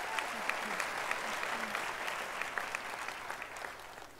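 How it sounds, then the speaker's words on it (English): Audience applause for singers at a university graduation ceremony, a steady, even wash of clapping from a large hall crowd that holds for several seconds with faint voices mixed in. "Shall we give them another round of applause,"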